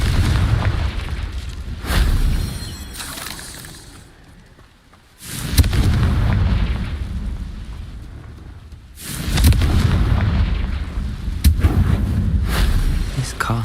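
Confringo blasting spell explosions in the Hogwarts Legacy game, heard as loud booming blasts with rumbling decay, one big burst around the middle and another later, separated by a brief lull.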